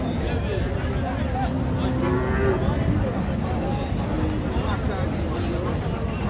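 A cow moos at Raniganj cattle market, drawn-out and loud, over a constant babble of crowd voices and traders talking close by.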